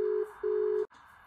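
Busy tone on a phone call that fails to connect: two steady, loud beeps, each about 0.4 s, separated by a short gap, with no voices.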